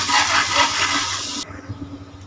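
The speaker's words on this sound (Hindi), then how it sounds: "1 टेबल स्पून इसमें अदरक लहसुन का पेस्ट जाएगा। इसे सौते करेंगे अच्छे तरीके से" Ginger garlic paste sautéing in half a cup of hot oil for mutton degi korma, a loud broadband sizzle that cuts off abruptly partway through, leaving a quieter low crackle.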